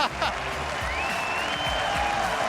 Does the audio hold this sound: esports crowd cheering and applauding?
yes